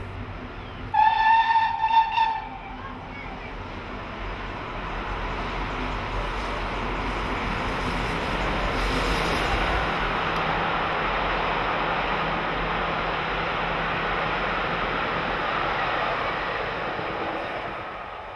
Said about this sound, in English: Arriving at Plymouth with the Royal Duchy Special is the next Great Western Railway steam locomotive. 5029 Nunnary Castle, another of the 4073 Castle class.